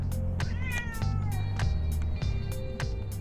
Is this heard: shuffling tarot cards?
no